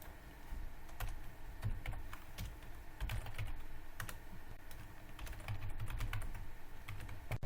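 Someone types a password on a computer keyboard, a steady run of quick, light key clicks with no pauses and no speech.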